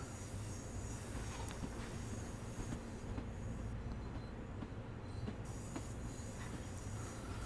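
A train in Train Sim World 2 runs steadily along the track, a dense continuous rumble of wheels and motor with faint rail clicks and a brief squeal, with no speech.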